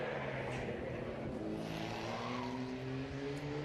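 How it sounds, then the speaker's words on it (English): An MGA sports car fitted with Jaguar XK parts races at a historic sprint meeting, its engine droning steadily with rising harmonic tones as it accelerates past under a constant crowd-and-wind wash. "It's an MGA that's had an awful lot of Jaguar XK parts injected into it."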